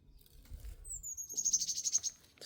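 Small bird calling from a tree on a March outing, a thin high whistled call rising then holding steady for about a second, moderately close over a low rumble of wind and footsteps.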